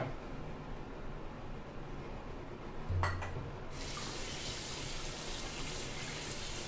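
Prawns are rinsed under a running kitchen tap, a steady hiss of water that briefly clatters and then gushes harder, with no voices.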